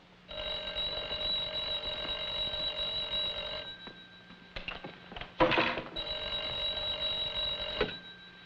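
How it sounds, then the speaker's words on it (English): An old-fashioned telephone bell rings loudly in two long bursts separated by a short pause, with some rustling in the gap, in a 1950s crime television drama. "answer the phone"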